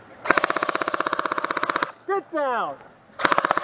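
Airsoft guns firing at an outdoor attack-and-defend game: rapid, evenly spaced full-auto bursts, close and loud, broken by a short shout from a player before the firing resumes.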